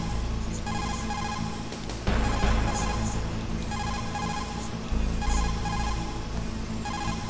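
Phone dialing and ringing from the Metal Gear Solid video game, a steady repeating ring tone with tonal beeps over a continuous game soundscape, growing slightly louder midway and with no talk.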